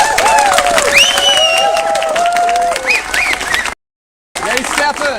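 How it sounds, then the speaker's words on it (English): A crowd at a rally at the BC Legislature applauds with dense clapping and a few cheers, the applause pausing briefly in silence before resuming, with birdlike whistles mixed in. "Round of applause."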